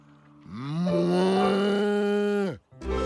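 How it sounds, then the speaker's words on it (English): A cow moos in a Curious George cartoon, one long, loud, drawn-out low call that falls off abruptly at the end, followed by a short grunt-like noise. "or a cow."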